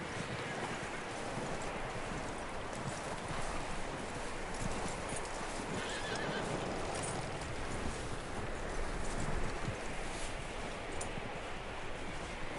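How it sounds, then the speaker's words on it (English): Horse hooves clip-clop steadily under a constant rushing noise bed in the video game Red Dead Redemption 2, the footfalls faint and continuous throughout. "That looks like a decent horse."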